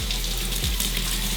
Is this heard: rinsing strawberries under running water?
yes